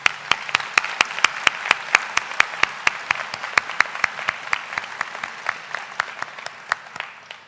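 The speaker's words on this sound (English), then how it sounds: "Let's big round of applause for our graduates." Applause for graduates at an Algonquin College Pembroke Campus convocation ceremony, with a few close, sharp, evenly spaced hand claps standing out over softer audience clapping that gradually thins.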